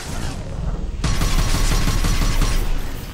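Mercenary gunfire in the Mass Effect 2 game, a dense, loud barrage of rapid shots that jumps in intensity after the first second and keeps rattling without pause.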